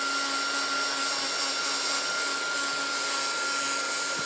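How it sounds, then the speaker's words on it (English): A handheld craft heat tool blows steadily while drying a junk journal topper, a continuous loud whirring hiss with a fixed motor hum and no pauses. "So I've got my heat tool here."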